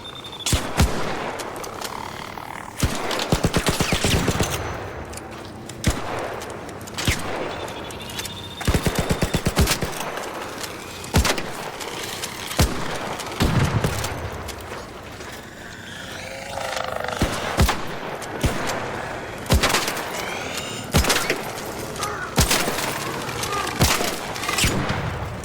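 Gunfire from the video game Arc Raiders rattles through a loud firefight, with repeated bursts of automatic fire and sharp single shots over a dense roar of game sound, while players' voices come and go.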